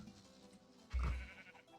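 A blocky Minecraft cow lets out one short, low moo at close range, a brief burst in otherwise quiet game ambience.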